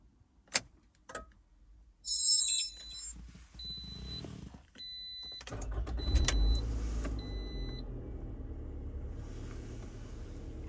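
Clicks and beeps, then a Toyota car engine cranks and catches using a newly programmed aftermarket key, settling into a steady idling rumble.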